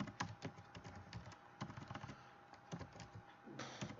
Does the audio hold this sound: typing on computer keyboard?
yes